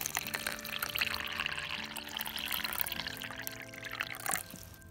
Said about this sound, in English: I'm gonna get you some water, some clean drinking water.